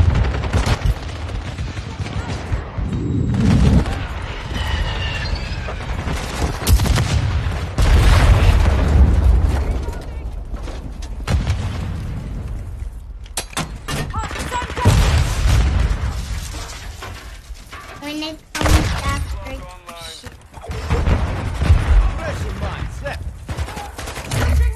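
Rapid gunfire from a video game, bursts of automatic shots and booming blasts that come in heavy, loud volleys with brief lulls, alongside the player's voice talking.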